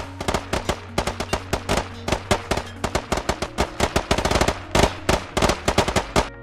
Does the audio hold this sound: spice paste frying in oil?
no